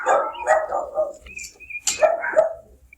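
Dogs barking indoors in a home, several sharp close barks in two clusters with a short pause between, loud and alone without talk.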